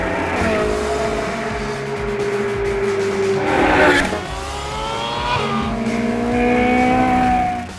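Ferrari 458 Challenge race car lapping Buddh International Circuit, its engine revving loudly through gear changes with rising and falling pitch, passing near with a surge around the middle and building again toward the end.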